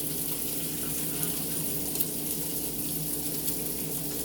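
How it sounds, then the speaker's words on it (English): Distilled water pours steadily into a teapot, about three cups, a continuous close splashing rush with no talk. "And I put about 3 cups of water in here"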